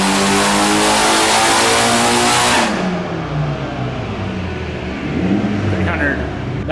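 A Mitsubishi Evo 8 engine roars loud and close at high revs during a dyno pull, then drops off sharply and keeps droning at lower revs with a rough, throaty rumble.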